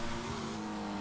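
The Pariah supercar in a racing video game roars in a steady, loud engine drone with a sustained high rev and no voices.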